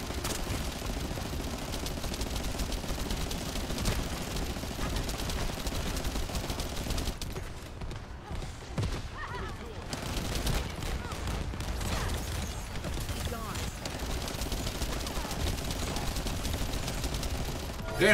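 Dense, rapid video-game gunfire during a boss fight, bursts rattling almost without pause at a loud close level, with a brief lull partway through before the shooting resumes.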